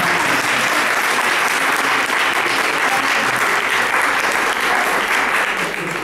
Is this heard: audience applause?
yes